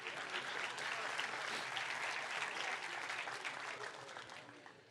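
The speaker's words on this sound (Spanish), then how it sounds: "denle un aplauso a Jesús" Steady, sustained applause from a large church congregation, dense clapping at even loudness throughout, with a faint murmur of voices mixed in.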